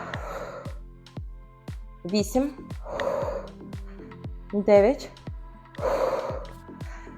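Hard, gasping breaths burst out between counted reps of a fast, energetic full-body workout, loud and close, with a voice counting over them.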